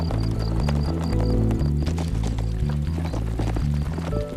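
Horses running, with loud rhythmic hoofbeats in a rapid clip-clop gait, close and continuous against a rumbling low background.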